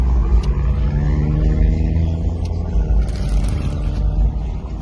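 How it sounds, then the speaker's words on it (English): Road traffic rumbles continuously with cars passing close by, a dense low engine drone with swelling passes and no talking heard. "There's so much traffic up on the road today?"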